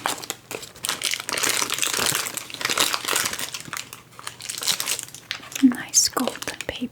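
Gold silk tissue paper crinkles and rustles up close while being unwrapped during an unboxing, a steady crumpling texture with a soft spoken voice underneath.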